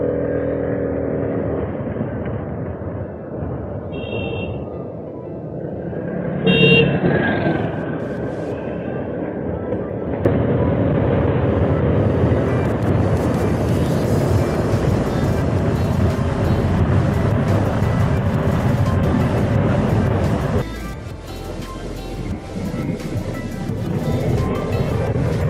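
A Vespa scooter rides along a road, its engine note mixed with heavy wind rush that swells and drops as speed changes. The rider is close and the noise is loud and steady for most of the ride.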